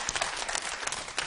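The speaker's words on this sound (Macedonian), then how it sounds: "Ајде да дадеме еден аплауз за колку ни е убаво во звон?" A group of kindergarten children claps together at a televised show, a dense burst of quick, overlapping hand claps that holds steady for about a second.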